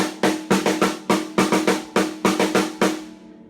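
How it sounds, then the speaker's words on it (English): Three-stroke Herta rudiment played on a drum kit, sharp close drum hits in quick repeating triplet groups, loud and alone with no talk, ringing out at the end. "If I kind of take my normal Herta, that 3-beat pattern"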